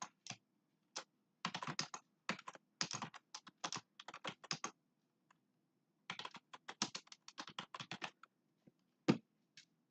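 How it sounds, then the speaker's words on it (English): A paper title being typed on a computer keyboard, quiet close-up key clicks arriving in quick bursts separated by short pauses of silence. "Type in whatever you want your title to be"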